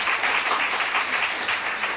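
Seminar audience applause, a dense, steady wash of many hands clapping close by, filling the whole moment with no talk over it.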